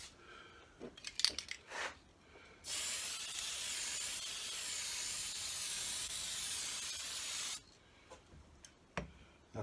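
Spray paint hissing steadily for about five seconds as a second coat goes onto a P-51 Mustang model, close and continuous, framed by a few short clicks and handling noises before and after.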